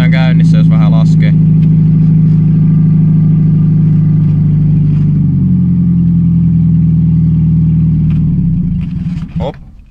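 Ford Fiesta Mk3 engine holding a steady, loud, even hum at about 1500 rpm for most of the time, briefly varying midway, then dropping off and stalling near the end, with a little talk at the start.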